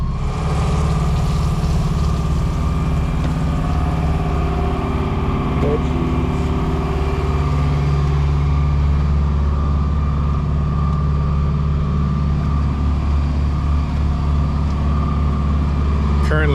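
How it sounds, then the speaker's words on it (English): A sailboat's engine drones steadily while motor sailing in near-calm conditions on the Sea of Cortez, a loud, constant low hum with a faint voice speaking over it. "Currently motor sailing, barely no wind"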